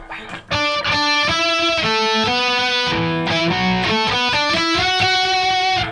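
An electric guitar through a whammy pedal set to high octave plays a quick melodic phrase of pitched notes with an unnaturally high, synthetic octave tone, loud and close.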